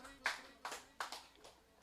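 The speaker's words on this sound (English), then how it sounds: "Let's make it 3 claps" An audience at a Miss Pacific farewell dinner gives a quick round of claps, about three or four sharp bursts spaced roughly evenly, moderately close, with no talk over them.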